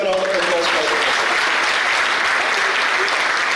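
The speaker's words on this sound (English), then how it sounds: "Let's have a round of applause for Professor." An audience applauds a professor at the close of an online doctoral conference session, loud dense clapping filling the whole stretch, with a brief voice at the start.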